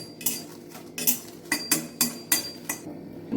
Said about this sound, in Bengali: এই শুকনো লঙ্কাটা একটু নাড়াচাড়া করে